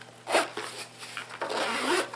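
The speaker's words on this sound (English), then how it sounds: "So let's unzip it here." A zipper case holding a GoPro Hero 11 Black is pulled open in several quick rasping strokes, close and clear, with no talking.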